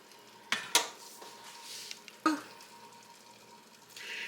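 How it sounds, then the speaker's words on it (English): A spoon clinks and scrapes against a pot while beef broth and heavy whipping cream are stirred together, a few sharp metallic taps over a soft, faint background, with no talk. "Now just stir your beef broth and your heavy whipping cream together."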